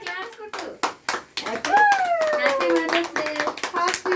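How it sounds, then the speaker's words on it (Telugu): Several people clap together at a family Mother's Day celebration, with bursts of clapping near the start giving way to a child's and adults' voices speaking over the later claps. "క్లాప్స్"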